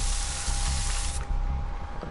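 A spray can hisses in Dead by Daylight as a player sprays themselves clean, a steady loud broadband spray that runs under low game rumble and cuts off sharply just past a second before a second burst continues.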